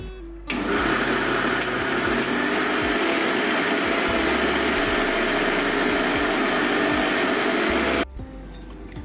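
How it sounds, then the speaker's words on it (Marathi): A kitchen mixer grinder whirs loudly and steadily, blending mango rava cake batter with oil, milk and salt for about seven and a half seconds before shutting off abruptly. "हे मिश्रण छान आपण बारीक करून घेऊया।"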